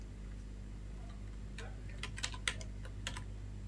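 Java code is typed on a computer keyboard, with a short burst of quick, light keystrokes in the second half over a quiet, steady hum, and no one speaking.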